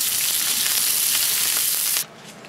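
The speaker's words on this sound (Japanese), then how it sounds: "در این حالت بامیه ها رو سرخ میکنم." Okra sizzles loudly in hot oil for about two seconds, a dense bright frying hiss that suddenly drops to a quiet murmur.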